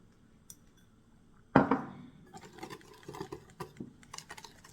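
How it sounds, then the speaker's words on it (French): A whisk clinks against a bowl as milk is mixed with corn starch, with a sharp first strike and then a quick, uneven run of light taps and scrapes at close range. "Voilà, donc je fouette. Et là, je vais incorporer ma fécule de maïs."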